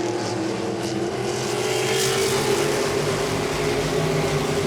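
Modified race cars roaring around Langley Speedway, a loud continuous blend of engines at high revs with a rising pitch as the field passes close by, with no talking.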